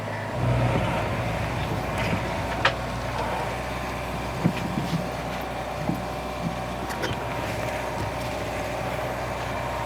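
A van engine idles after starting up, a steady low rumble at moderate level with a few faint clicks and knocks over it, no voices.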